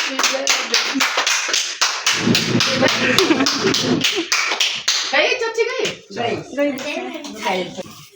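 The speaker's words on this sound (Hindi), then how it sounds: "ताली तो बजा लो" People clapping at a home birthday celebration, a quick run of sharp rhythmic claps with lively voices talking and cheering throughout.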